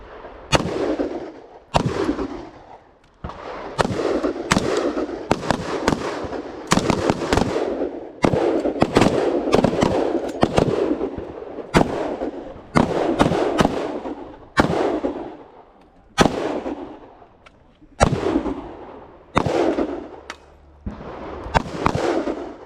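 Rifle shots at an outdoor shooting range, a rapid, uneven run of sharp, loud cracks with echoing tails over about twenty seconds, several shooters firing close together on the line.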